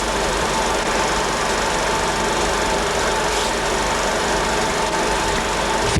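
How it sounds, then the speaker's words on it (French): A Kawasaki Avenger motorcycle with rotary valves and a racing tank runs steadily and loudly throughout at the Montlhéry track during the 1969 Bol d'Or, a continuous mechanical drone with no talking. "C'est une Kawasaki Avenger avec ses distributeurs rotatifs et un réservoir de Kawasaki de course"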